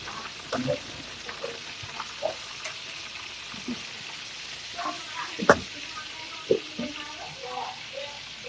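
Chicken frying in a pan gives a soft, steady sizzle broken by occasional sharper pops and clinks of stirring. The frying stays faint and close.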